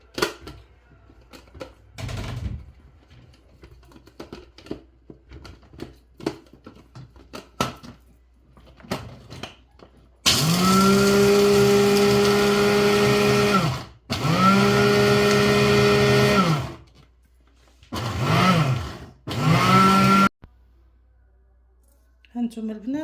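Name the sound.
blender grinding fried almonds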